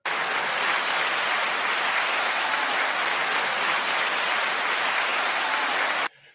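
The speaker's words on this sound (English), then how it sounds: "9-second applause to that." Dense, steady applause from a crowd, loud and continuous for about six seconds before cutting off sharply, with no voices over it.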